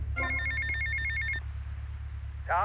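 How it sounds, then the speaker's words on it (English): A phone rings inside the video game GTA Vice City: a bright electronic ringtone pulsing for just over a second over a constant low engine-like drone, then a short rising electronic chirp near the end. "I'm gonna get out and answer this phone call."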